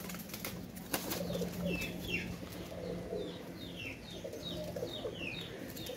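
Pakistani Royal Teddy pigeons kept for sale, soft cooing and scattered fluttery calls from a group of birds, faint and continuous over a low background hum, with no talk.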